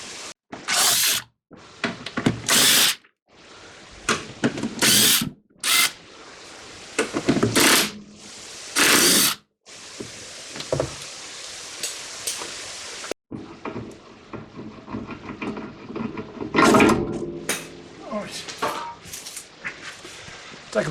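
Hand tools are used on the rear shocks of an Audi 80 B4, irregular close metallic ratcheting and clanking bursts separated by short quiet gaps, followed by softer scraping and handling noises.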